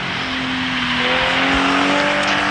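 Car engine in a driving video game: a steady, loud engine drone with rising tonal whine as the car accelerates, continuous throughout with no voices.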